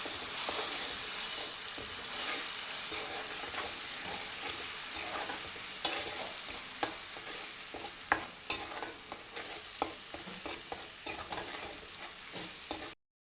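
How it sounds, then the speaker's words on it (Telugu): Onion paste frying in a pan with spice masala, a steady soft sizzle with occasional sharp clicks and taps of stirring toward the end. "ఉల్లిపాయల పేస్ట్ వేపుతున్నానండి"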